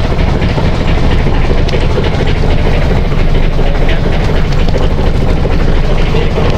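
A loud, steady boat engine drones continuously with a dense rumbling roar and rapid mechanical rattling, close and unbroken.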